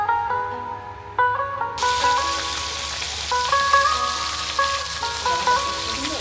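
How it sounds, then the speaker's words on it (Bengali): Fish frying in a pan: a loud, dense sizzle starts abruptly about two seconds in and runs on steadily, with faint tonal music underneath throughout. "মাছের এক পাশ ভাজা শেষ"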